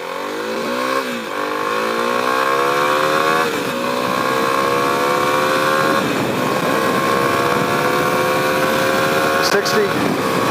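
A 2021 Kawasaki KLX 300 dual-sport motorcycle pulls hard at full throttle from a standing start, its single-cylinder engine rising in pitch through the gears with a brief dip at each shift, loud and close on board over steady wind roar.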